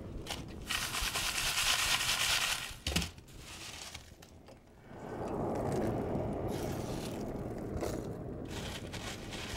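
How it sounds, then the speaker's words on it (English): A hand-crank forge blower turns at a blacksmith's forge, giving a steady whirring, ratcheting mechanical rumble with scraping and clinking while fuel is added, continuous and close through most of the stretch. "I'm going to crank the blower just a little bit"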